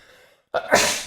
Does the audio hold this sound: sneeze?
yes